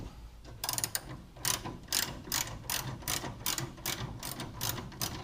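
A socket ratchet tightening a bolt on the air suspension of a 1972 Chevy Nova SS gives quick bursts of close, crisp clicking, several strokes in a row with a steady mechanical rhythm and no talk.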